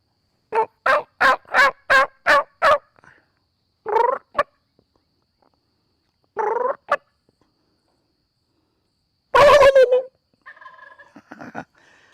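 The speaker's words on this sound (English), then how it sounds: "I hear one across the road gobbling back" A rapid series of seven sharp calls opens, followed later by distant wild turkey gobbles, a loud rattling gobble near the end, and softer clucks after.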